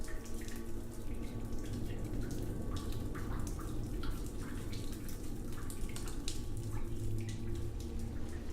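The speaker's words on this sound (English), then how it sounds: "every drop dripping from the ceiling has its own sound" Water drips from the ceiling of a video game hallway, a steady trickling and dripping bed with scattered brighter drop-like taps throughout, continuous and fairly close, with no talking.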